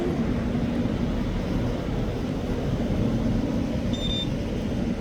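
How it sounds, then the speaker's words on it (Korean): An airplane passes overhead at the Amisan observatory, heard as a steady, broad, distant rumble that holds evenly throughout with no speech. "비행기 갑니다. 아, 비행기."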